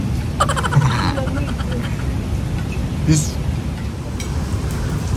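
Steady rain falls outdoors in a continuous hiss, loud and close, with a few faint voices and brief sounds rising over it.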